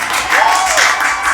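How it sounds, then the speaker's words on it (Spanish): Brief applause from a podcast studio audience welcoming a guest, a steady dense patter of clapping with a faint tonal whistle-like sweep through it. "Un aplauso, por favor."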